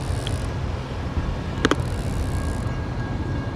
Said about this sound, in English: There's the train again.